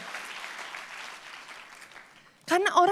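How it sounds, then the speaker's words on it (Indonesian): A church congregation claps in a sustained round of applause that tapers off, then a voice cuts in loudly close to the microphone. "Kalau mau tepuk tangan yang paling dahsyat buat Yesus Tuhan kita."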